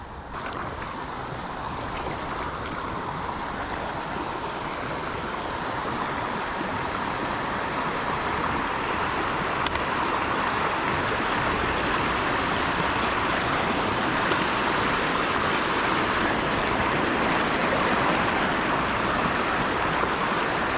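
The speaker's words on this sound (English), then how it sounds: "Look at this cool waterfall." Steady rushing water roars continuously, a broad, unbroken wash from a small waterfall or rapid nearby at a Florida spring, with no voices.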